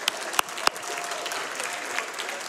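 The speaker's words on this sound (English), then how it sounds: "let's give another round of applause" Audience at Summer Games Done Quick, a speedrunning charity event, applauding after a Super Mario World Kaizo relay race: loud, dense, sustained clapping with a couple of sharp pops, no speech.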